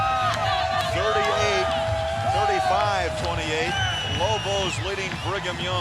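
Stadium crowd at a 1997 college football game between BYU and New Mexico in Albuquerque, cheering loudly and steadily in the fourth quarter after a touchdown, with a commentator talking over the roar throughout.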